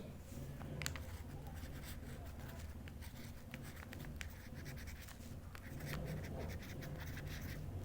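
A list of expenses for final accounts is written out by hand, heard as soft, continuous scratching strokes of a pen on paper, faint and close, over a low background hum.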